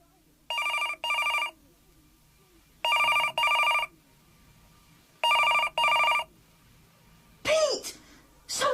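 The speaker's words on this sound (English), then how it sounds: "The phone went on ringing." An old-style telephone bell rings in three distinct double bursts, loud and close in a quiet room, followed by a person clearing their throat and coughing.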